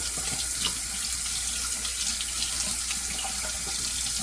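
Tap water runs steadily into a sink to warm a razor for shaving, a constant close hiss and splash that holds at one level throughout with no talk.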